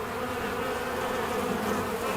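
Honey bees swarm around an opened hive during a first inspection after a cold Texas winter, a dense, steady buzzing drone close by without talk.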